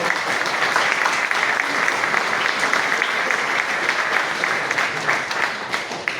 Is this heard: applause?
yes